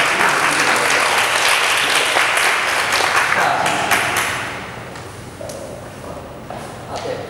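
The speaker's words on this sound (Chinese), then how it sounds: "我们再一次大家拍手欢迎两位学者以及我们艺术家" An audience at a gallery panel discussion on ink painting applauds to welcome two scholars and an artist, loud dense clapping that fades after about four seconds into a few scattered claps and faint room noise.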